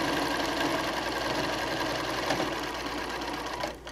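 Sewing machine running steadily while stitching a quarter inch seam on quilt pieces for a puppies pattern, a dense continuous mechanical whir heard up close, alone, before it stops abruptly at the end.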